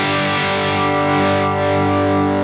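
An electric guitar played through a Dr. Z Nova amplifier rings out a single loud, sustained overdriven chord that holds steady for a couple of seconds with no voices.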